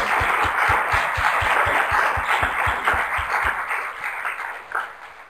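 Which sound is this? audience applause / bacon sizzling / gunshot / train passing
audience applause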